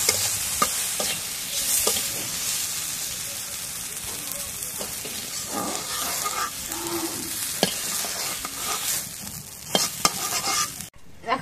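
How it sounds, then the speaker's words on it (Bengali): Pointed gourd fries in hot oil in a pan, giving a steady, close, crackling sizzle with scraping stirs that runs throughout without any talk. "এখন পটল ভাজি হয়ে গেছে, পটল ভাজি যখন নামাই নিই।"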